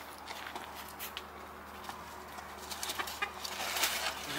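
Soft, scattered clucks from a chicken over a rustling background, growing a little busier toward the end, with a cat nearby.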